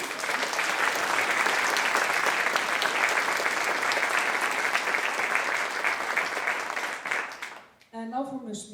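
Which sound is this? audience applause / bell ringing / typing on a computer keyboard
audience applause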